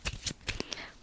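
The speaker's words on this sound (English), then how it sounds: "I'll shuffle up the cards." A deck of cards is shuffled up close, giving a brief run of quick papery riffles and snaps, faint and alone.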